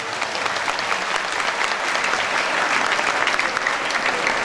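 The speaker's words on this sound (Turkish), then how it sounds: "Onlar için özel bir alkış istiyorum." An audience at a municipal outdoor event in Defne claps steadily, a dense, even wash of applause lasting several seconds with no talking over it.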